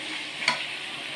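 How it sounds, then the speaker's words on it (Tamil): Vegetables and dried fish frying in oil for a fish curry, a brief steady close sizzle with a single small pop in the middle. "இது கொஞ்சம் நேரம் வதங்கட்டும் எண்ணெயிலேயே."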